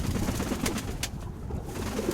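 A pigeon coos close by over a steady outdoor background hum, its low calls repeating in a soft, uneven rhythm.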